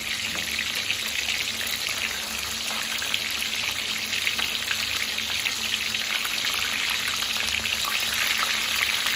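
Tilapia fries in a pan of hot oil, a dense, constant hissing sizzle that fills the whole stretch at an even, moderate loudness with no talk over it.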